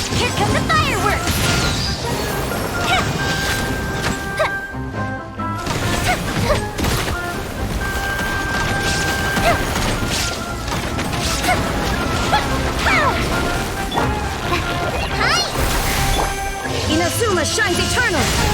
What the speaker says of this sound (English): Here come the fireworks!